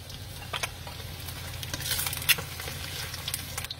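Pressed tofu dropped into a pan of frying egg, a close crackling sizzle with light patter and scraping, and a small utensil tap near the middle.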